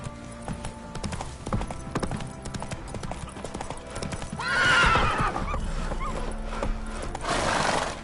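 Roach, the horse in The Witcher 3, gallops in fast, close clip-clopping hoofbeats and lets out a loud neigh midway, while the hooves keep pounding on.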